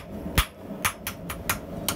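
Hammer forging a slit-to-round punch taper, drawing the end out to a small chisel point: six or so sharp ringing metal blows at an uneven pace, fairly close but moderately quiet, with light background hum between strikes.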